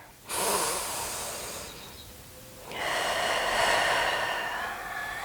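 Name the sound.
full breathing during hip mobility stretch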